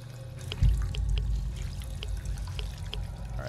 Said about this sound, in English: Let's get our water full up.